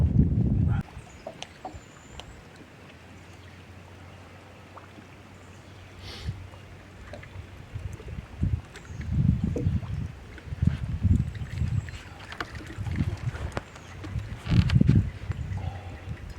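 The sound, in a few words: wind blowing on a lake while fishing from a boat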